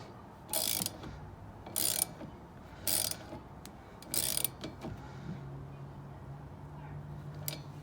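A ratchet wrench fitted with a 15 mm socket clicks in four short bursts as it tightens a bolt on a car supercharger, close up, followed by a low mechanical hum; no talking.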